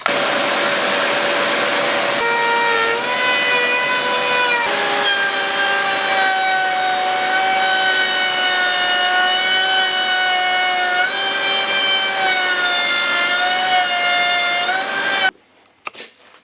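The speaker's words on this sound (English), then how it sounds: "I used the router to cut out a rebate" A power router cuts a rebate into plywood, a loud, steady high-pitched whine with shifting tonal pitch that holds for about fifteen seconds before stopping abruptly.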